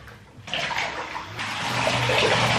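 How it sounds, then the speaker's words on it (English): Water running and splashing in a bathtub as hair is rinsed, a steady close wash of water that swells louder after the first half second and keeps flowing without speech. "let me rinse my hair out"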